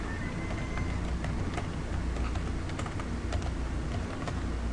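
Rapid, steady clatter of keys on a computer keyboard as code is typed, close and continuous with no talking.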